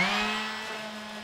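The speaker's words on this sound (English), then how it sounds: "So I'm gonna sand down this edge here." Power sander on the edge of a modular terrain block, a short steady motor whine heard up close that fades slightly, with no talking.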